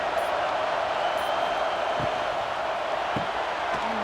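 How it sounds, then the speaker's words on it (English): Steady stadium crowd roar in the College Football 26 video game during a Northern Illinois vs Mississippi State matchup, a continuous broad wash of noise with a few faint thumps, no clear cheering peaks. "This crowd bringing the energy and noise early."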